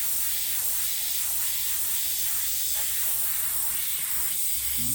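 An airbrush sprays paint thinned with WD-40 in a constant close hiss that runs unbroken from start to finish.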